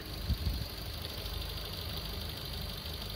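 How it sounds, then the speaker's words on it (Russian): A Suzuki Swift car engine idles with a smooth, even rumble, close and steady throughout, with a couple of faint thumps near the start. "Мотор на холостом у нас работает отлично, тихо, ровно."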